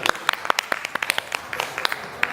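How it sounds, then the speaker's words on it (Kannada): An audience at a Navaratri festival in a Vidyaganapati temple claps in a scattered burst of sharp, close handclaps, uneven and brisk for a couple of seconds. "ಈ ಧನ್ಯವಾದಕ್ಕಾಗಿ ಒಂದು ಚಪ್ಪಾಳೆ ಕೊಡಿ."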